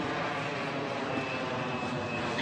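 Airplane in the Minecraft Island Wars game, a steady, loud engine drone that holds level and unbroken the whole time, no voice on top.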